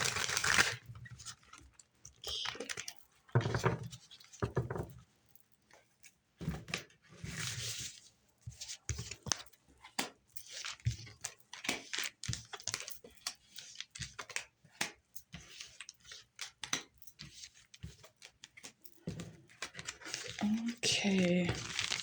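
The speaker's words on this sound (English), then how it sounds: "One more shuffle for" Tarot cards being shuffled, a long run of soft riffling, tapping and crinkling bursts near the listener in an irregular rhythm, with a person speaking in between.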